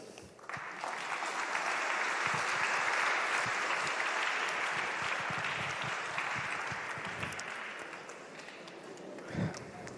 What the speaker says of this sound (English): Keep on clapping until, especially after such a mind-blowing speech.